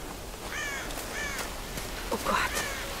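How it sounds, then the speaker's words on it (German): Several crows caw in Tomb Raider: Definitive Edition, a handful of harsh calls from mid-distance over soft outdoor ambience, with a player's voice now and then. "Krähen."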